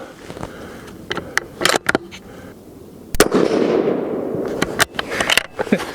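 A Tikka T3X Super Varmint rifle in .223 Remington fires Hornady 69-grain match bullets outdoors. One loud, sharp report rings out with a lingering rumbling tail, amid scattered mechanical clicks and handling noises.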